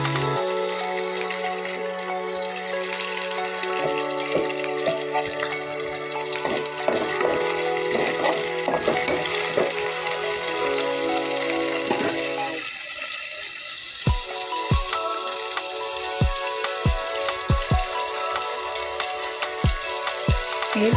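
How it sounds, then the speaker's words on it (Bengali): Sliced onions with garlic paste, bay leaves, cinnamon and spices frying in oil for egg khichuri, a steady close hiss running under a tonal background with a few sharp clicks. "আমি একটা একটা করে সব মশলাগুলো অ্যাড করছি পেঁয়াজ এবং তেলের ভিতরে।"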